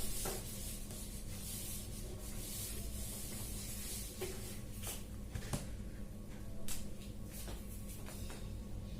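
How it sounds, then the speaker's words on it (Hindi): Steady rubbing and scraping as writing is wiped off a teaching board, a continuous close swishing texture with a few sharper strokes, heard alone without talk. "इसको मैं रब कर देती हूँ, थोड़ा कुछ हो गया है"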